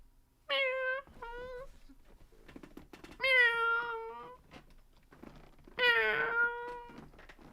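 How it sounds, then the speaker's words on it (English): A cat meows three times, each a clear, drawn-out, close call spaced a few seconds apart, with quiet background noise in between. "I challenge anybody to make a better cat noise than that"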